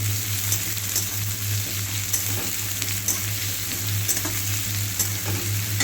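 Onions and whole garam masala fry in a pan, a steady close sizzle with occasional stirring scrapes and a low hum underneath, no talking.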